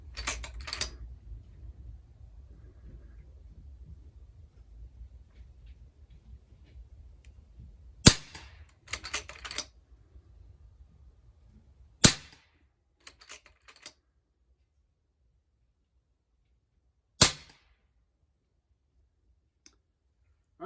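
An FX Impact MK2 air rifle firing 26 gr Patriot Javelin slugs through a chronograph at 50 yards gives several sharp, isolated cracks spaced seconds apart, over a faint low background rumble.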